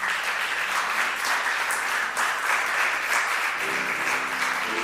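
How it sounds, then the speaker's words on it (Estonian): Sustained crowd applause at a Republic of Estonia 103rd anniversary award ceremony in Antsla parish, greeting a laureate; steady, dense clapping fills the whole stretch at an even level, with a faint tonal sound creeping in near the end. "Laureaat on Sandra Rumask, aplaus."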